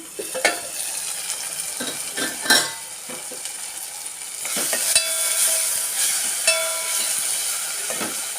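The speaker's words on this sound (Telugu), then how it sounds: "సిమ్లో పెట్టుకొని కొంచెం టమాటా మగ్గేటట్టు చేసుకోవాలి" Tomatoes cooking on a low flame in a pan for a cucumber and dry fish curry, with a steady sizzle broken by several sharp scrapes and clinks of a spoon stirring against the metal, with no talking.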